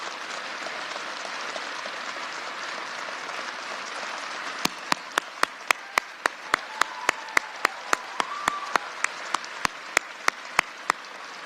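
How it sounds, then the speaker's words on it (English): An audience applauds at a gun control announcement, a sustained wash of clapping that carries throughout, while sharp, evenly spaced clicks like camera shutters break in over its second half. "Let's give him a round of applause."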